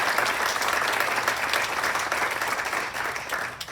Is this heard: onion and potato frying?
no